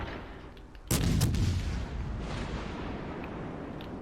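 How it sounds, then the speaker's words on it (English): Battleship guns firing in World of Warships Legends: one sudden heavy boom that rolls and rumbles away over a few seconds against a low background hum. "I think I'm coming under fire from 15-inch guns on the Queen Elizabeth"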